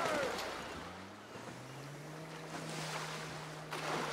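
Boat engine droning across the water in the video game GTA 5 Online, a steady low hum that rises slightly in pitch, with wind and splashing wash around it.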